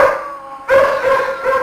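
Dogs barking and howling as a fairy-tale sound effect, sustained tonal howls with a sharp louder burst midway, loud and continuous.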